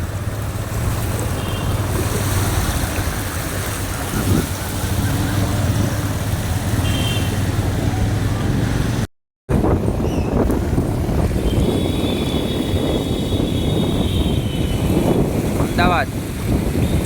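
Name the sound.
heavy rain and waterlogging in Ahmedabad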